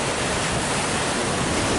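Sea waves crash against huge rocks on an island coast with a dense, roaring wash of broadband noise. The surge is loud and close, constant and unbroken for the whole moment, with no voices.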